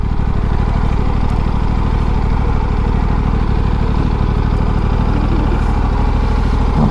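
An Aprilia RS 457 motorcycle idles close by with a steady, low throbbing engine note that holds evenly throughout, with no talk over it.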